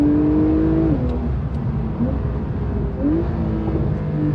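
A Porsche 911 992-generation Carrera 4S accelerates hard on the road, its engine note climbing through steady revs, then dipping and rising again across shifts, loud and close throughout.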